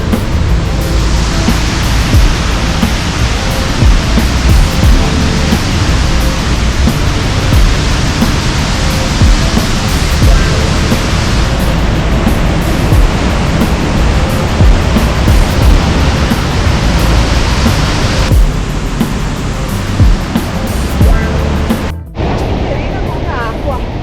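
Loud, steady roar of the Rio Fanes mountain stream rushing close by in the Dolomites near Cortina d'Ampezzo, a continuous broadband wash that drops off abruptly near the end, with a voice talking over it.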